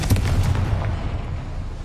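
A Confringo blasting spell in Hogwarts Legacy goes off as a booming burst that rumbles and fades over under two seconds.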